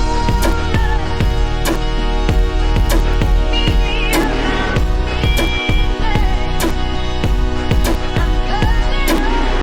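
Hip-hop beat built from a sampled kick and snare and a sampled breath, looping steadily with punchy regular drum hits and layered melodic tones, loud and dense throughout.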